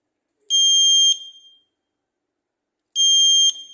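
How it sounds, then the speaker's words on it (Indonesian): A buzzer wired to output Q01 of a Siemens S7-200 PLC sounds twice, each a loud, shrill electronic tone lasting about half a second, separated by a couple of seconds of silence. "Jika output di sini menyala pada alamat Q01 dan buzzer akan menyala."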